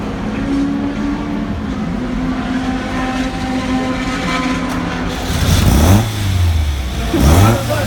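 A car engine at a motor racing circuit runs steadily at a loud, close idle, then revs up twice in quick rising and falling sweeps.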